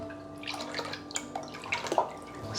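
Juice pours into a container, making a close, quiet liquid trickle and splash that carries on for a couple of seconds with faint drips.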